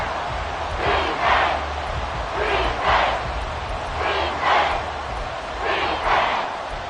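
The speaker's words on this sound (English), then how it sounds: "This crowd doing all they can." An NFL crowd roars in a football stadium during a Panthers–Saints game, loud rhythmic chanting swells rising and falling about every second and a half, alone without commentary.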